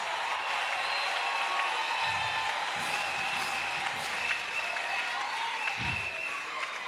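Congregation at a live French-language praise and worship service in Abidjan applauding for Jesus Christ, sustained steady clapping from a crowd in a hall, moderately loud and continuous, with brief voices and noises underneath.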